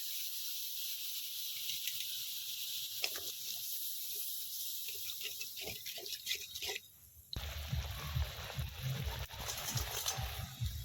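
Coconut milk poured in one go into a cooked poppy-seed curry masala for potol malai, a sudden loud hissing sizzle that swells and crackles steadily after a few quieter drips and taps.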